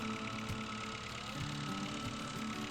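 A tractor engine in the video game Farming Simulator 2011 drones continuously at a low, rumbling pitch, loud and steady with a faint knock, and no other sounds.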